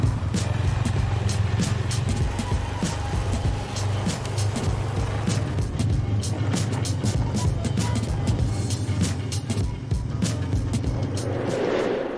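A snowmobile engine drones steadily up close with a low, constant hum and rattling, rushing noise as it rides across snow in Finland.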